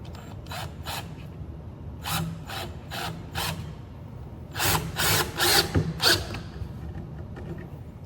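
Power drill driving into a shelf pole, giving several short bursts: two brief ones, three more in the middle, then a longer cluster of four louder runs, close and with no talking.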